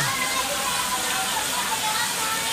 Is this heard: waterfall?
yes